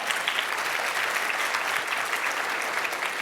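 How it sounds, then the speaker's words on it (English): Audience at a business talk clapping together, a dense, steady wash of applause from many hands filling the room for a few seconds. "Feel free to clap for that."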